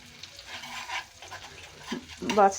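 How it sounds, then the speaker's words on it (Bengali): Salted hilsa fish batter fritters frying in a pan with a soft sizzle and stirring scrapes, growing a little louder toward the end, where a short tonal sound cuts in. "ভালো করে জিনিসটা আমাকে ভাজতে হবে"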